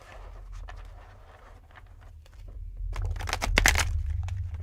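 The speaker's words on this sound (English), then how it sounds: "These are hard as fuck to shuffle." A deck of tarot cards is shuffled by hand in a quiet room: soft scattered riffles and slides, then a denser burst of crisp card flicks near the end, with no talking.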